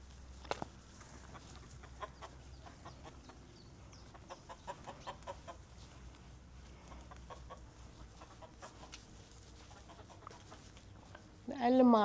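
Chickens and chicks on a farm cluck and peep in scattered, soft calls across a quiet background, ending with a brief louder voice.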